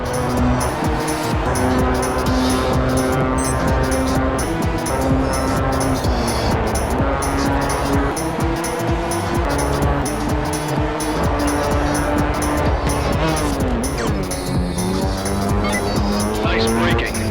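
Race car engine roaring with tire squeal under braking in R: Racing Evolution, continuous and loud with rising and falling engine tones and skidding, with talk over it.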